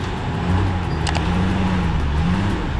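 Oversize heavy truck hauling a load, its engine a steady low rumble with droning harmonics that rise and dip slightly, fairly close and continuous, with a brief higher clank near the middle.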